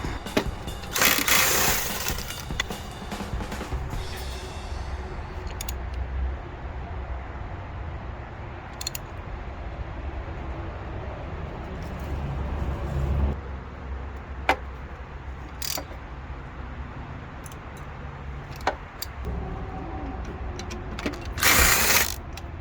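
Intermittent metallic clicks, ratcheting and tool clatter come from hand tools loosening bolts on a Honda F23A engine already pulled from a 1998 Honda Odyssey, faint and scattered over a quiet garage background.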